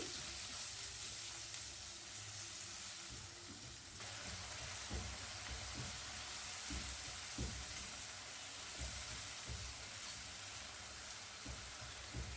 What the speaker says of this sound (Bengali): পেঁয়াজকে আমি বেটে নিয়েছিলাম সেটার মধ্যে দিয়ে দিচ্ছি দিয়ে আবার একটু নেড়ে নিচ্ছি